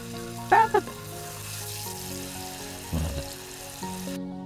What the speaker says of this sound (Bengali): নাহিদা ফুলের 2 পাশে ভালোভাবে ডো মাখিয়ে এটাকে হচ্ছে তেলের মধ্যে ছেড়ে দিচ্ছে।